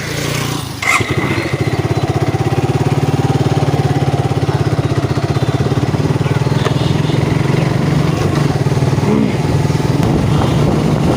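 Motorcycle being ridden, a loud, steady, close engine drone with a continuous low throb and wind rush, running without pause throughout.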